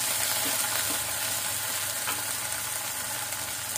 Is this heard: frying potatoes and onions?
yes